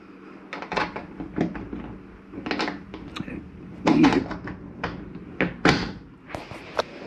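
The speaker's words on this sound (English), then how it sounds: "You need to close your unit up, so you want to make sure all of these are snapped closed." Cabinet doors in a 2021 Columbus 366RL RV are pushed and snapped shut one after another, a close series of sharp knocks, latch clicks and soft thuds with no speech.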